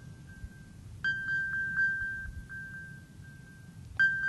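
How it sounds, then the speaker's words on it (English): A mobile phone left behind in a lecture hall gives a steady electronic tone with brief ringing chimes at the start and again near the end, moderately loud over a low room rumble. "something is beeping? Oh, that's her phone."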